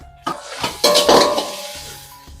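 Chopped onions and green chillies land in hot oil in a pan while cooking fried rice, giving a few clattering metallic clinks and scrapes followed by a rising sizzle, close and fairly loud.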